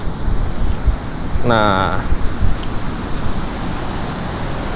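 Fairly big ocean waves break at Madasari beach in Pangandaran, a steady loud wash of surf mixed with wind buffeting the microphone, while a voice speaks briefly.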